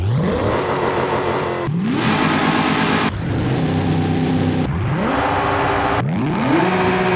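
Car engine in Forza Horizon 5 revving loudly and continuously, climbing through five repeated rising sweeps with sharp gear-change breaks, alone without any talk.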